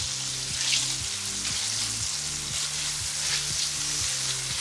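Turkey kielbasa fries in a pan with a dense, even sizzle, while a utensil scrapes the browned bits from the pan bottom in repeated low strokes, close and steady with no voices.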